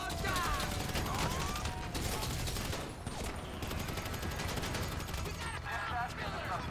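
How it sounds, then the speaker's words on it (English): Rapid, dense gunfire from the video game GTA 5 crackles continuously at moderate loudness, with bursts of automatic fire layered over a constant background of game noise. "Let's do some shooting."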